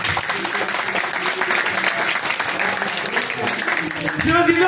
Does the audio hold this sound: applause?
yes